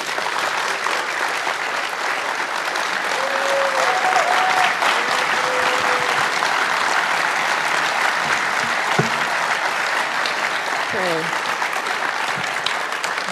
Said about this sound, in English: a big round of applause for all of us